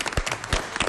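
A studio audience at a live French TV broadcast bursts into applause, a brief dense patter of many hands with a few sharper, heavier claps standing out.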